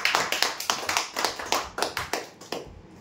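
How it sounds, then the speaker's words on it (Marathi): A small group claps for a prize winner at a lucky-draw announcement, giving a quick run of close, sharp hand claps in an uneven rhythm that thins out and stops near the end. "जोरदार टाळ्या होते यांच्यासाठी."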